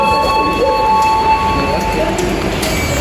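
Steady rumble of a train interior with a constant hum and faint high whine, continuous throughout, with some indistinct voices in the background.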